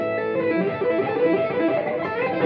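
Heavily distorted electric guitar through a BOSS GT-1 effects processor playing a fast, busy riff, with a thick, saturated tone that stays loud and steady throughout.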